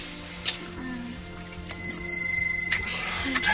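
A bright bell rings a single clear, sustained tone that lingers for about a second, standing out over faint background noise.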